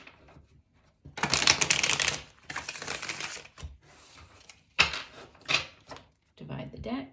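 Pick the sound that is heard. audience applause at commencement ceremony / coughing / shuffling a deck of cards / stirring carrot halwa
shuffling a deck of cards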